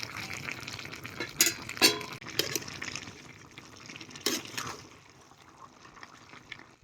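Soft sizzling of chicken in a pan over a wood-fired clay stove, with a few louder scraping stirs in the first half, then quieter frying that fades toward the end.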